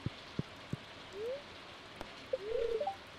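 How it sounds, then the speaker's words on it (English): Rain pattering in Stardew Valley on a green rain day, with a few soft drops and short tonal chirps over a quiet, steady bed. "It's a green rain day."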